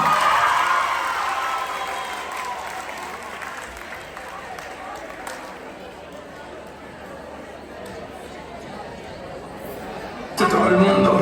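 Loud applause breaks out at a secondary school end-of-year ceremony, dense clapping mixed with cheers that gradually fades. Speech and a burst of music come in near the end.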